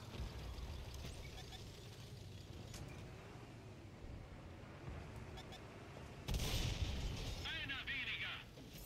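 Heavy booming artillery fire and rumbling battle noise in the tank combat video game World of Tanks on console; a sustained low roar throughout, with a louder blast about two-thirds of the way in.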